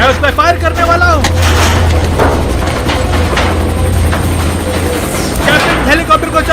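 Gunfire crackles through a battle scene in the 2007 film Elite Squad, loud and chaotic bursts mixed with a helicopter's steady rotor drone, voices shouting over the noise.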